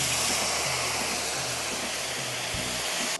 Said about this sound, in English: So just keep adding your broth mixture to the rice, stirring constantly until you've used up all the broth.